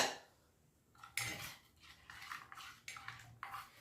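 A spoon clinks and scrapes against a glass or vessel while bottle gourd juice is stirred with rock salt and lemon juice, a few close, quick bursts of stirring after a brief quiet start.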